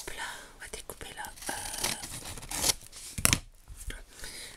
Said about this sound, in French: je pense que je vais découper avec la pince